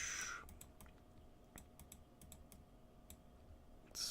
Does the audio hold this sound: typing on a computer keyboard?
yes